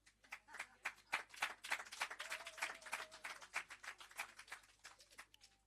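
A small audience claps at an outdoor handing-over ceremony in Curtis Bottom, Port Morant, St. Thomas, welcoming a Member of Parliament; the scattered, fairly faint hand claps are distinct and irregular for several seconds.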